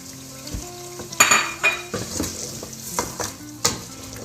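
Chicken roasts with spices in a pot while being stirred, with close sizzling and frying under repeated scrapes and clinks of a utensil against the metal.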